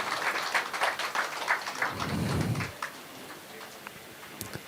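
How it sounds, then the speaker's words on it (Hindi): Scattered audience clapping at a spiritual summit gathering, a few seconds of uneven claps that thin out, followed by a short low rumble and quieter room noise. "मीता बहन गुरुदेव के पास जोरदार तालियां।"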